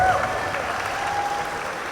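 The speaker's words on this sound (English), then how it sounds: "give them once again a huge round of applause" Audience applause after a dance performance at a college dance event, a steady wash of clapping filling the space with a sustained tone or feedback hum running through it.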